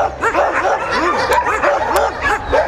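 Dozens of dogs bark and yip together at a kennel, a loud, dense, continuous chorus of overlapping barks, howls and whimpers close by.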